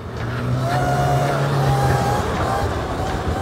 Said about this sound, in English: This is my very first wheelie attempt on this bike.